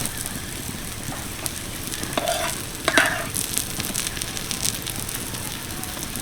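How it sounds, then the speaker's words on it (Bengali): Egg and potato omelette fries in a little oil in a pan, a gentle continuous sizzle with a few light scraping and stirring sounds from a spatula. "এবার ওই পিঠটা ভাজার জন্য অল্প একটু তেল ছড়িয়ে দেবো"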